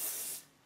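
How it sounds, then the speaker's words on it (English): Hairspray hisses from an aerosol can in one short, close burst and then stops abruptly. "Little bit of spray and we're good to go."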